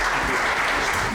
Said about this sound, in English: big round of applause and welcome our speaker on stage